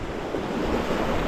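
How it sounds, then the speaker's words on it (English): Wind buffets a microphone at the seashore on a bass fishing trip, a steady broadband rumble and roar with no talk. "Apologies guys about the wind."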